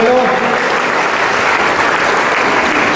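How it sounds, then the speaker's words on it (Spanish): A church congregation at Sunday Mass in the San José parish applauds a girl, a dense, steady round of clapping filling the room from start to finish, with a voice faintly audible at the very beginning. "Un aplauso a la niña, aquí, ¿verdad?"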